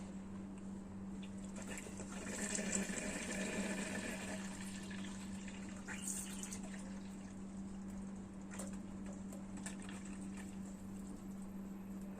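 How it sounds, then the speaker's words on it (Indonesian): Boiled water pours onto soybeans being prepared for tempeh, a faint, quiet liquid splash and trickle over a steady low hum that swells briefly early on, then thins out. "Dan kita ingin mengisi kacang kedelai tersebut dengan air rebus, dan masukkan air rebus ini."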